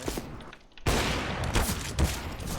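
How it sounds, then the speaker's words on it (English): A video game flashbang grenade is thrown and goes off with a sudden sharp blast. Gunfire-like bursts and other game noise follow at close range. "Throwing a One flashbang."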